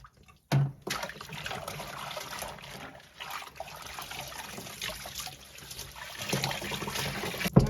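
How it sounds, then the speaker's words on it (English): Dirty wash water from a wool crochet hat is dumped out of a tub, a sudden splash followed by a steady pouring, trickling rush that swells again near the end, close and without talk. "Dump out the dirty water"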